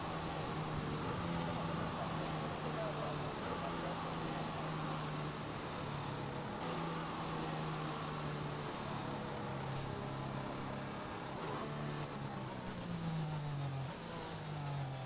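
Engine of an F1 2021 video game racing car held at full throttle on a formation lap at the Italian round, a steady high-pitched whine with shifting harmonic pitch throughout, loud and continuous with other cars around.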